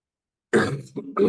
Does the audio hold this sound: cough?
yes